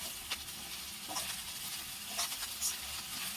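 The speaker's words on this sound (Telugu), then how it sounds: "వేగిన తోటకూర వేసుకుందాము నేను తోటకూర శుభ్రంగా కడిగి కట్ చేసుకున్నానండి" Amaranth leaves frying and being stirred in a pan, giving a steady close sizzle with a few brief scraping stirs.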